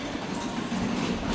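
An Osaka Metro train runs underground, a steady close rumble of wheels and carriage noise throughout, with no voices.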